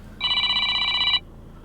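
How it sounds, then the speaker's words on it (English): A mobile phone rings with an incoming call: one loud, clear electronic ringtone burst of about a second, starting abruptly and cutting off cleanly, close by with no talking. "He's phoning me back."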